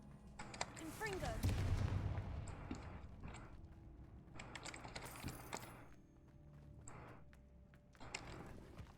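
A Confringo spell cast in Hogwarts Legacy, with sharp blasts and crackling, mechanical-sounding bursts around a few moments of combat, moderately loud with quieter gaps between.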